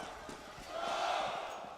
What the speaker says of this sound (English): the crowd certainly is behind them right now